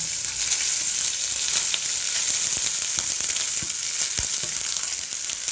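Rice frying in a pan with tempering spices for cumin fried rice, a steady bright sizzle with occasional soft scrapes and ticks throughout, close and continuous with no talking.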